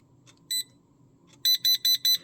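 An ANALOI 13.7-inch LED wall clock's timer alarm sounds a brief single beep, then a rapid run of five loud, evenly spaced electronic beeps over a quiet background.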